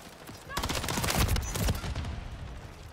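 Rapid submachine gun bursts from the Rival 9 in Call of Duty MW3, a dense rattling stream of close, loud shots lasting about two seconds.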